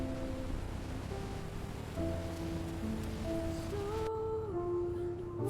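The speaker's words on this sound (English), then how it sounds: "The rain is starting." Steady rain pattering on a moving RV, a dense continuous hiss with a low hum and some tonal whines in the background.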